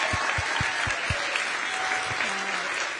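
Crowd applause at a Kamala Harris campaign rally in Pennsylvania, a dense steady wash of many hands clapping, loud and sustained throughout, with a few heavier low thumps near the start.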